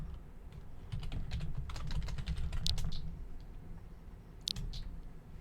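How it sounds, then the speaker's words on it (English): Typing on a computer keyboard during Second Life play, a quick run of light clicks and key taps at close range, with a couple of sharper clacks near the end, no talking. "you gotta be careful when you're typing in"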